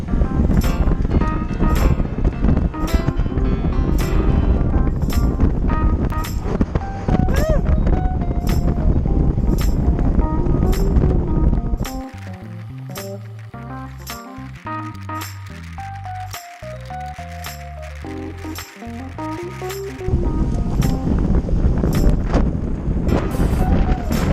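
Heavy wind buffeting a microphone on a ride, loud and constant low rumble with gusty thumps, easing briefly in the middle before returning strongly.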